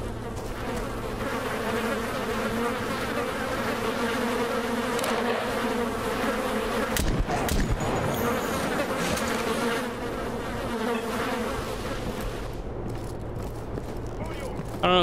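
Swarm of flies or bees buzzing steadily in the Stalker Clear Sky game with the Last Fallout Overhaul mod, a dense continuous drone beneath a game soundscape, with a sudden louder burst of noise near the middle.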